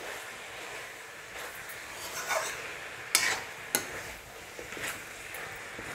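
A spoon stirs chicken and potato curry in a pot with scraping strokes and a few sharper knocks, over a soft, constant sizzle close by.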